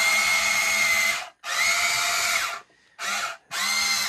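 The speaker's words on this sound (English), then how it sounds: "one complaint I do have about this excavator is that the motors and stuff in it are quite loud" The motors of a Diecast Masters 1:16 RC Cat 320 excavator whir loudly and close, a high-pitched electric whine in four bursts separated by short pauses, with no talking.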